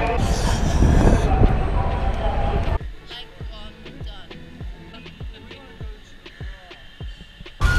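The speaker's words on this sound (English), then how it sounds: "We just like sort out getting on the train." A passing train in India: loud noisy rumble for a few seconds, then quieter rhythmic clunks of wheels over rail joints, with voices in the background.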